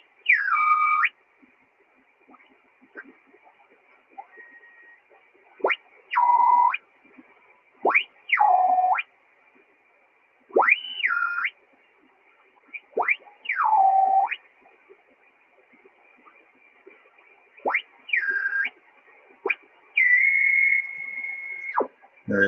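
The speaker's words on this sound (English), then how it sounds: "So I'm going to go up to 30 megahertz and tune down slowly in upper sideband." A shortwave radio is tuned slowly downward from 30 MHz in upper sideband toward the 10-meter band. Whistling heterodyne tones sweep and warble in short separate bursts over a quiet background hiss, with no talking.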